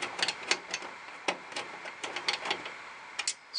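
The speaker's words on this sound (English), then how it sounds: "screw it in the rest of the way" Small clicks and ratchety ticks from a screwdriver driving a screw to mount an extra exhaust fan in a Power Macintosh G3 computer, quiet and close, in irregular bursts with no talking.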